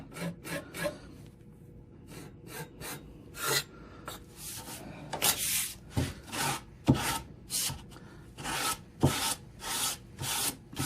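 Sandpaper rasping on wood in steady back-and-forth strokes, a rhythmic scratchy hiss, close and moderately loud, with no voices.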